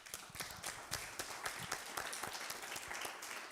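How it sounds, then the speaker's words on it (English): Scattered, moderately distant audience clapping follows a startup pitch at a live feedback event, individual claps distinct in a loose rhythm, with no speech over it. "Round of applause"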